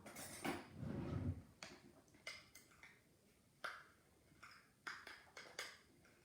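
Burger seasoning mixed in a bowl with ketchup, the utensil clinking and scraping against the dish in quiet, irregular taps with a brief rumbling stir near the start.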